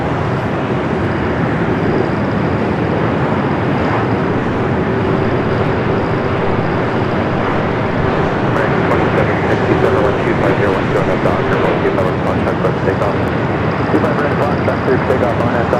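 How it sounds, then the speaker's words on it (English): Singapore Airlines Airbus A350-900 arriving at LAX, a loud steady broadband jet roar lasting throughout with a distant airport rumble beneath it. "Singapore flight 36, the first of two A350-900s coming in from Singapore"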